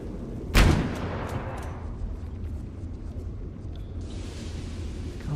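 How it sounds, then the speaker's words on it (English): A single heavy sniper shot booms out in the video game Abiotic Factor, a loud sharp crack with a rumbling tail that fades into a steady low ambient drone. "there's snipers around"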